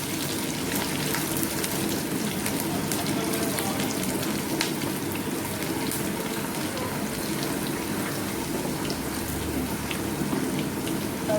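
Ginger, garlic and chilli sizzle steadily in a hot pan, an even close crackle like light rain that holds with no talk.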